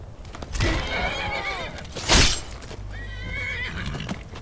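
A horse in the Skyrim video game whinnies twice, a long neigh early on and another shorter one later, with a sharp burst between them and faint hoof clops underneath, fairly close and clear.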